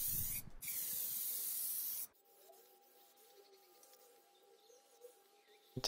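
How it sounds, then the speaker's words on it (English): A steady, loud hiss of a sprayer applying a polyurethane base coat to a table runs for about two seconds, then stops, leaving quiet room noise and a faint hum. "I'm just spraying a base coat of polyurethane first"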